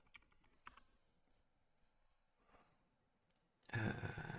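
Faint computer keyboard typing, a few scattered key taps at close range over a quiet room, ending in a sudden loud burst of broadband noise.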